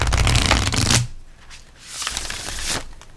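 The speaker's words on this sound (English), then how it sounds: "Bridge shuffles very nicely" A deck of oracle cards is bridge shuffled up close: a loud burst of riffling cards, a brief pause with light handling, then a second cascading riffle that tapers off.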